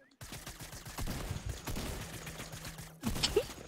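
Sustained rapid automatic gunfire from the video game Fortnite, in a prop hunt match on a yacht, rattles loud and continuous for about three seconds, then breaks off abruptly into a short burst of brighter in-game effects.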